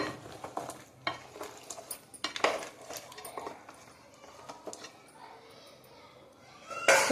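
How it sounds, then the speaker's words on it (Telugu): Stirring tamarind juice into a frying curry in a pan: soft scraping and clinking of a spoon against the pan in irregular strokes, with a quiet sizzle and someone talking over it. "ఇప్పుడు ఒకసారి మనం కలుపుకుందాం దీన్ని"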